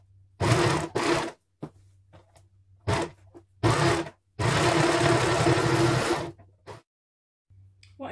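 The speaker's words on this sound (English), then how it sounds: "let's get these corners overlocked" An overlocker runs in several close, loud bursts, short ones and one longer run of about two seconds, with quiet gaps between, as it sews the corners of a king size duvet cover; no talking.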